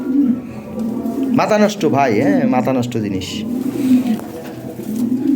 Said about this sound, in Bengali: শো করার মতো কবুতর